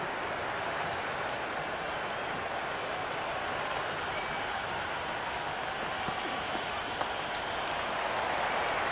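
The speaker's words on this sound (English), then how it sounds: "The crowd is electric right now." Cricket crowd at a Big Bash T20 match, Hobart Hurricanes versus Melbourne Stars, cheering and applauding in a steady, broad roar that stays level and fills the whole stretch, heard from a distance.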